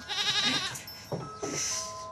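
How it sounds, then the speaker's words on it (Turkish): A goat bleats loudly and close, a wavering cry followed by two shorter bleats. "bahçede keçi var"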